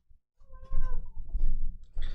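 Angry cat, a short run of harsh, strained meows and low growly yowls, close and fairly loud, broken by brief pauses.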